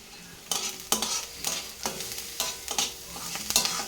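Onions frying in a pan with grated ginger and garlic added, stirred in repeated scraping strokes over a continuous sizzle, fairly close and even in rhythm.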